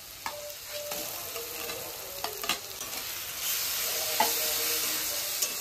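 Onion frying with ginger garlic paste and chopped chilli, a soft steady sizzle in the pan broken by occasional spoon scrapes and clinks, close, with the hiss growing louder toward the end and no talking.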